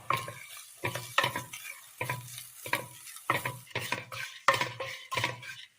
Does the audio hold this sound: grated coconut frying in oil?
yes